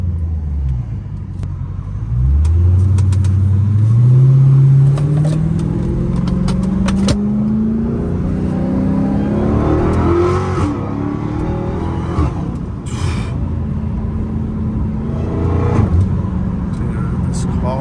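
A 797 hp Dodge Challenger Hellcat Redeye accelerates hard, its engine roaring up in pitch, then easing into a deep, rumbling cruise that keeps swelling and falling. Loud and close throughout, with someone talking briefly over it.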